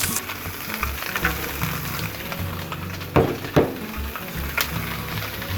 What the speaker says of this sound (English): Let's go ahead and get the peppers and onions on too.